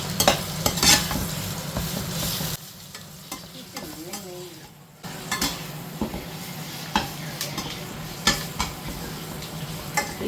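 Raw banana pieces fry and sizzle in a pan for a festive dish, with repeated stirring scrapes and clinks over a steady frying hiss; the sizzle drops briefly in the middle, then returns.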